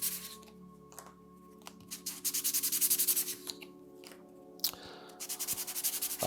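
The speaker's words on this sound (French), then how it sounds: "je mets un petit coup de ponçage sur chaque, mais c'est vraiment pas obligatoire" Light hand sanding of Christmas bauble parts, a series of soft rhythmic scratchy rubbing strokes in short bursts, close and quiet with pauses between passes.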